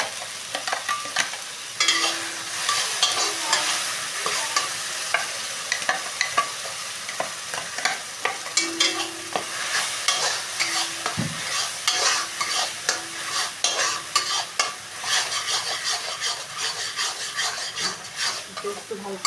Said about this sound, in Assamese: পেষ্টটো ভালকৈ ভাজি ল'ম